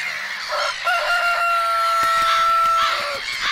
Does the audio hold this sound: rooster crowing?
yes